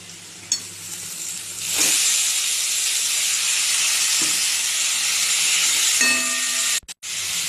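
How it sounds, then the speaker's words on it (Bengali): Broccoli tipped into a hot pan of fried onion, ginger, garlic and turmeric sets off a loud, sustained sizzle that swells after a soft clink and holds steady, ending with a brief clatter. "এবার ব্রোকলিটা দিয়ে দিই।"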